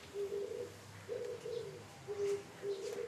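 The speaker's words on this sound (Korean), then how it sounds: "새소리인지 모르겠는데 그 정글에서 나는 새 아니에요" Jungle-like bird calls sound as soft, repeated cooing phrases, about four short bursts with brief gaps, faint and without any voices.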